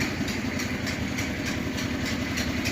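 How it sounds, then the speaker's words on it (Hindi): A 1600 horsepower engine driving a flour mill runs steadily near the microphone, a loud continuous low mechanical drone with a fast, even pulsing throb and no voices. "1600 हॉर्स पावर का इंजन है इसका लगा हुआ है, उसके साथ ही अटैच है।"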